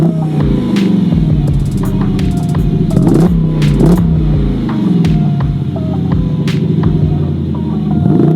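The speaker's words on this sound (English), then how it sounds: "I'll rev it here" A Mopar car's engine revs repeatedly through a cat-back exhaust, loud and close, with a throaty rumble that rises and falls with each blip of the throttle.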